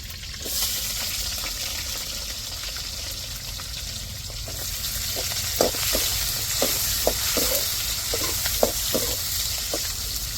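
Chopped onions with curry leaves and chili sauté in oil, a steady close sizzle with a spoon clicking and scraping against the pan in a run of quick strokes in the second half.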